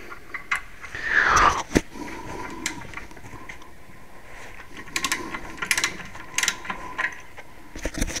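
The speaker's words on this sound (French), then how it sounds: "ma clé dynamométrique marche que dans un sens, en mode serrage" A torque wrench works a front wheel bolt on a Volkswagen Golf 4 during a wheel bearing job, giving a brief grinding burst, then sparse, sharp ratcheting clicks in irregular clusters, close by and without talk.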